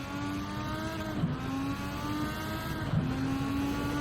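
Race car engine in Gran Turismo 7 running at high revs through a chicane, a steady loud whine that rises in pitch with brief dips at two gear shifts, with no talk.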